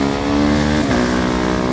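A KTM Duke 390 motorcycle engine roars at high revs, with a quick dip in pitch partway through as the quickshifter changes gear up, then keeps pulling hard.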